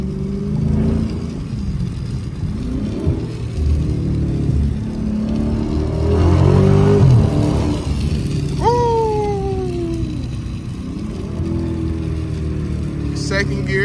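A damaged Dodge SRT 392 in street mode accelerates on a cold late-night road, its engine rising in a whining, swelling pitch through the gears, heard from inside the cabin with a window cracked and steady road rumble.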